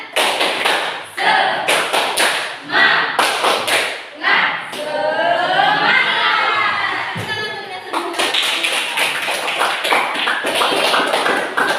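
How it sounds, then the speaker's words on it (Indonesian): Students in a classroom perform a rhythmic spirit clap, with sharp, patterned bursts of clapping and tapping alternating with chanted voices. A stretch of excited shouting from the children breaks up the rhythm. "Coba tepuk semangat dulu."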